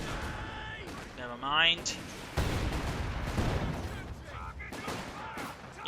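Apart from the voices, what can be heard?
grenades and gunfire in video game Company of Heroes 2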